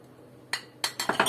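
Glass oil and vinegar bottles clink against each other as they are handled, a few sharp close knocks, the first on its own and then a quicker cluster of three or four.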